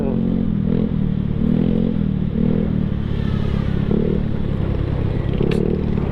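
A motorcycle hurries past on a hot afternoon road, its engine droning loudly and steadily over constant road noise as heard from a Yamaha Mio Sporty scooter riding alongside.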